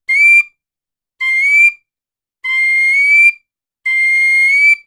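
A tin whistle plays a slow solo phrase of four clear, high, sustained notes, with the later notes held longer and short silences between them.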